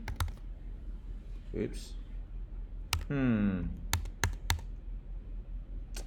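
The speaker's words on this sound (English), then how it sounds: "if you start typing" Typing on a computer keyboard, with a few sharp, separate key clicks spread across a quiet room while a person speaks briefly.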